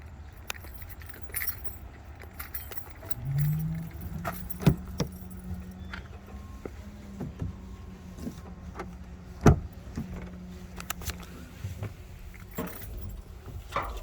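Keys jangle in short metallic bursts as a driver climbs into a Class A truck cab during a pretrip routine, with scattered clicks and a low hum underneath; nobody talks.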